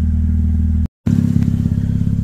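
A Mazda RX8 rotary engine idles close by with a tune, a loud, steady low buzzing drone with a slightly uneven pulse, briefly cut off before resuming.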